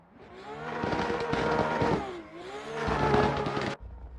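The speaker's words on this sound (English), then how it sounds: "that Supra sounds and looks great" A Toyota Supra drift car races past on the Manfeild track, its engine roaring loud and close across two sustained revving sweeps separated by a brief dip, then cutting off abruptly near the end.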